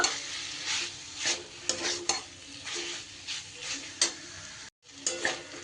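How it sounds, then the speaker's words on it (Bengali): Fried ridge gourd pieces stirred and sautéed with spices in hot oil, a steady sizzle broken by repeated scraping strokes of the spoon against the pan, close and moderately loud, with one brief drop to silence near the end. "মশলার সাথে সুন্দর করে কষিয়ে নিই"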